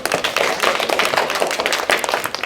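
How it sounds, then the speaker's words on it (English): A crowd of children clapping hands together, a dense, continuous patter of claps that stays loud throughout. "If you can clap twice. If you can clap 10 times."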